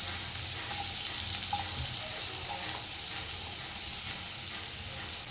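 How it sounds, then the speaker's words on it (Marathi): Finely chopped onion sizzles steadily in hot oil in a pot, a soft, continuous frying hiss with faint stirring clinks, close and quiet with no talk. "कांदा तेलामध्ये व्यवस्थित परतून घ्यायचा आहे"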